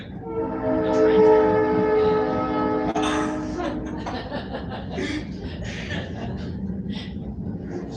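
A train horn blasts loud and sustained for about three seconds, its stacked harmonic tones dominating, then gives way to the rumbling clatter of the passing train under a mix of voices and light laughter.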